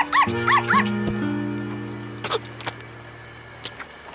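A dog barks three quick times at the start, followed by a low sustained musical drone and a few faint knocks, with no other voices.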